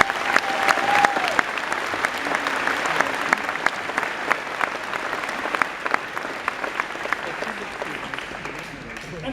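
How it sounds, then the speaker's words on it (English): Sustained applause from a large audience honouring school staff at a senior graduation ceremony, dense steady clapping that holds for the full length at an even level with no talk over it. "how about let's give our staff a round of applause"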